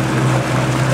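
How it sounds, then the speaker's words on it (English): A Yamaha 200 four-stroke outboard on a 2002 Parker 2110 boat idles at about 1200 RPM, a loud, even, low hum close by with no change in pitch. "real quiet Yamaha four-stroke engine with low hours"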